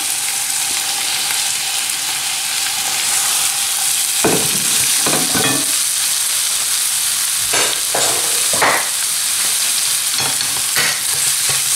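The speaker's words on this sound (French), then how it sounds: "Alors je vais mélanger avec ma spatule en bois pour pouvoir réduire la viande hachée en petits morceaux" Minced chicken, sliced carrots and black mushrooms stirred with a wooden spatula in a hot pan, steady close sizzling frying with several distinct scraping strokes of the spatula.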